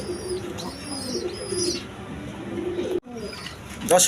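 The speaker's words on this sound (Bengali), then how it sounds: "এখানে এক পেয়ার শার্টিং কবুতর দেখেন একদম কোয়ালিটি সম্পন্ন কবুতর" A pair of shirting pigeons coo in soft, repeated low calls, close by, with higher chirps mixed in and someone talking over them.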